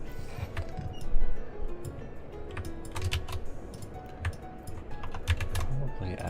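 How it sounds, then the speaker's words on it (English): Fingers type on a computer keyboard in rapid, uneven clicks and clacks, close up, with faint voices in the background. "What keyboard are you using, Spongy?"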